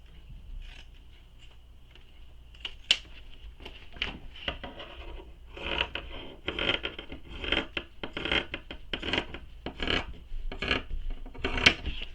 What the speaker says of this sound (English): I'm going to use pinking shears to trim them down